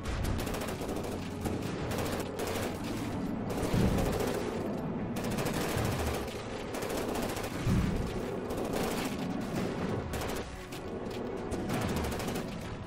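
Taipan cannon firing HEAT rounds in the naval combat game From the Depths: a dense, continuous barrage of rapid gunfire and thudding impacts, sustained and loud throughout with no pause.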